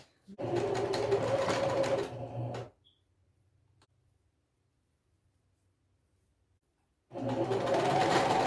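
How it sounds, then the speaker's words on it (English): A sewing machine stitches a hem on a fabric basket liner, running in a loud, close, steady whir for about two seconds, then stopping for several seconds of near silence before starting again at the same pace. "I'll go ahead and fold again and start stitching"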